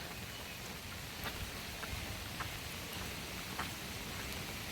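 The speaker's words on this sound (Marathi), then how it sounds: "हा पाऊस किती पडतोय" Steady May rain pours down over farm fields and a swelling stream in a dense, even hiss, with scattered drops pattering nearby and no voices.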